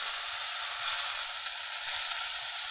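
Ginger fries in a pan for shukto, giving a steady, bright sizzle at a gentle level with faint low knocks of stirring underneath.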